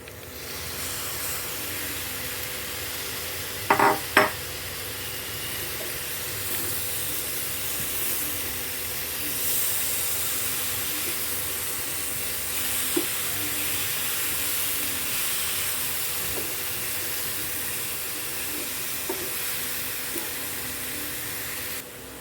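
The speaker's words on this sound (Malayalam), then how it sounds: "ഇനി നമുക്ക് അരിഞ്ഞ് ക്ലീൻ ചെയ്തൊക്കെ വെച്ചിരിക്കുന്ന സ്ക്വിഡ് കൂടി ഇതിലേക്ക് ചേർത്ത് കൊടുക്കാം" Cleaned, chopped squid added to a hot pan for a Kerala-style squid roast, a continuous broad sizzling hiss close by with a couple of brief clatters of a utensil early on.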